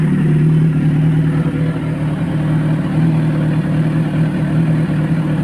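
A Kawasaki Ninja 1000SX big bike idles loudly while warming up, its engine holding a close, steady, throbbing drone throughout with no speech over it.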